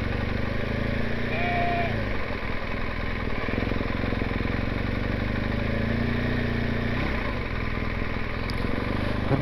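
A herd of sheep bleats along Honister Pass in the Lake District, drawn-out calls rising over a steady engine drone from a vehicle, close and fairly loud, with several bleats spread across the stretch and a voice faintly underneath.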